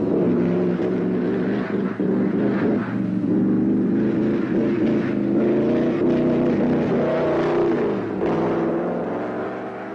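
Mercedes W125 Silver Arrow racing car lapping the Nürburgring, its engine a loud, close, continuous roar with shifting rises and falls in pitch as it drives the circuit.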